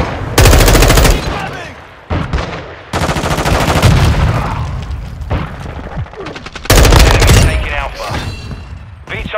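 Heavy automatic gunfire in a Modern Warfare 2 Domination match: loud, sustained rattling bursts close by, broken by brief pauses and then resuming at full intensity.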